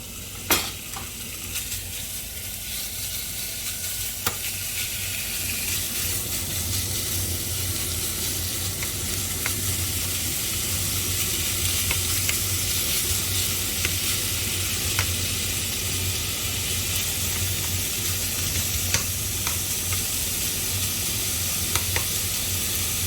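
Sliced pork sizzling in a hot pan for a leek and pork stir-fry, a loud, steady, close hiss holding throughout with occasional faint clinks and pops, no voices.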